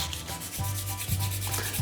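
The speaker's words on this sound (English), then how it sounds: "Then we do a little bit of sanding." Hand sanding of a small wooden finger skateboard deck where a drill broke through the underside, heard as close, repeated rubbing strokes in a steady back-and-forth rhythm with no talking.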